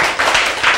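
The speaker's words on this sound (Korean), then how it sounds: "박수. 와." A church audience clapping at a sermon, a short loud burst of hand claps close by.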